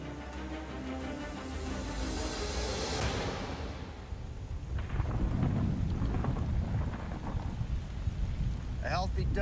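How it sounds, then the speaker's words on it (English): Heavy tropical rain in Samoa pours steadily during an outdoor challenge while thunder rumbles low and long, swelling in the middle and continuing under the downpour; no talk is heard. "A healthy dose of Samoan rain for this challenge"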